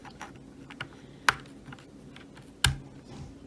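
Typing on an Akko Prunus Lannesiana 3098B keyboard with lavender purple switches gives scattered poppy clicks at an irregular pace, with two sharp, louder strikes standing out, close and alone without talk.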